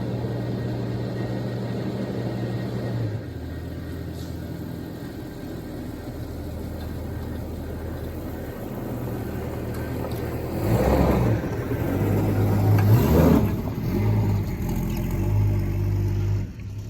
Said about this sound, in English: So it's just idling away now.